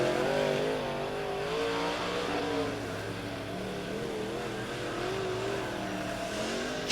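Late model race cars circle Lebanon Midway Speedway on a dirt oval in a feature race, engines droning at a moderate distance and rising and falling in pitch as the cars pass.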